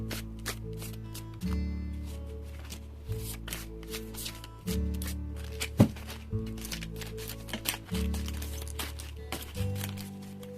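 Oracle and tarot cards being shuffled by hand in repeated crisp riffling bursts, each a second or two long, close and clear over a steady low background tone.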